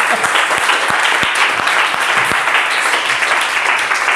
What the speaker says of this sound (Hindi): बजाओ एक बार जोरदार तालियां